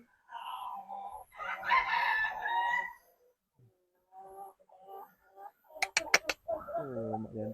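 Brahma chickens on a farm set in a forest cluck and call close by, with a rooster crowing toward the end, between stretches of quiet and a few sharp clicks.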